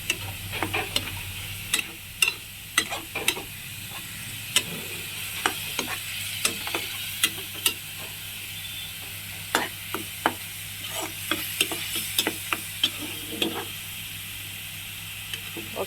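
A paste of ground poppy seeds, cinnamon, cardamom and cloves sizzles in a pan for spiny gourd curry, with steady soft frying hiss broken by frequent sharp clicks and scrapes of stirring.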